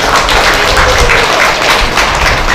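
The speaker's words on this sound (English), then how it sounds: "let us give Sir a big round of applause once again" Loud, dense applause from a large crowd, steady clapping throughout with no speech.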